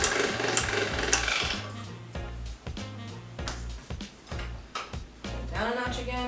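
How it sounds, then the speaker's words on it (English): A hand-cranked pasta machine rolling a sheet of homemade dough on its widest setting, turning out a close, rhythmic series of mechanical clicks and thumps with short pauses between passes. "feed it back through your machine, again on the widest setting"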